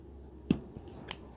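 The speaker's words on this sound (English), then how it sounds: "And this you can cut with scissors without running your scissors." Two crisp snips of scissors cutting through a thin strip of magnet tape, spaced about half a second apart, close and quiet.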